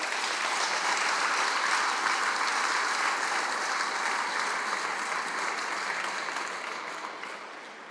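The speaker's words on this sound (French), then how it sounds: "je crois que vous pouvez les applaudir chaleureusement" Warm audience applause at an aviation museum inauguration, a dense, even wash of clapping from a large crowd, sustained throughout and fading slightly at the end.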